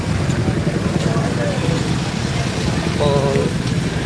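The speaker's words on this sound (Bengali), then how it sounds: "আজকে প্রচুর বৃষ্টি হচ্ছে" Steady, heavy rain hisses and patters over the whole stretch. Low traffic rumble and faint voices sit underneath it.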